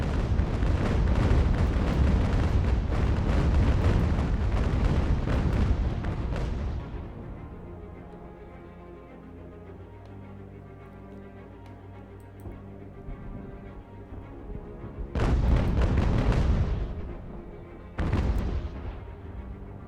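Ship cannons fire in a naval battle in the strategy game Ultimate General: American Revolution. A dense barrage of booming shots and explosions rolls for several seconds, then a quieter stretch, followed by two more sharp bursts of cannon fire.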